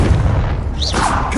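A loud, booming Confringo explosion spell from Hogwarts Legacy, a deep sustained rumble with magical whooshing tones layered on top.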